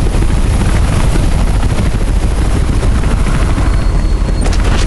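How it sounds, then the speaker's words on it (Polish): Helicopter in the video game Mirror's Edge, a steady loud rotor drone with dense low thumping filling the whole stretch, with no talk over it. "sorry, śmigłowiec."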